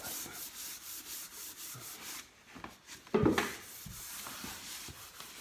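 Steel wool soaked in vinegar and water stain rubbed back and forth across a wooden surface, a close, soft scratchy rubbing in short strokes with a brief louder scrape near the middle.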